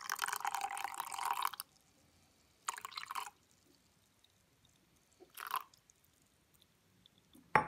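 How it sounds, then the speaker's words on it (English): Ninety grams of water being poured in for sourdough bread, quiet bursts of splashing and trickling liquid separated by pauses, with a short pour at the start and a few briefer ones after. "I'm putting in 90 grams of water."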